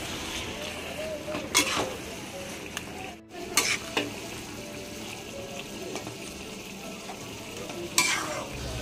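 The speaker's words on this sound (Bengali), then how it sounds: "তারপরে আমি সিদ্ধ করে রাখা কচুটা এর মধ্যে দিয়ে দেবো, দিয়ে ভালো করে আমি এটাকে কষতে দেবো।" Boiled taro (kochu) frying in oil as it is stirred, a steady moderate sizzle with a few sharp scrapes and knocks against the pan, heard up close.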